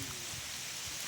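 Rain falls steadily during a mango-picking outing, a dense, even patter of drops hissing on surfaces, heard alone for about a second.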